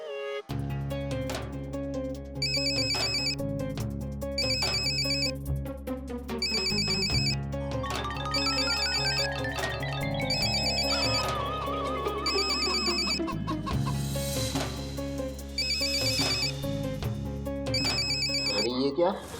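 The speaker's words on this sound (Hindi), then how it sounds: "गोरा लाला का फोन आ गया।" A telephone rings repeatedly in a Hindi comedy TV scene, its regular electronic ringtone bursts sounding loud and steady over background music.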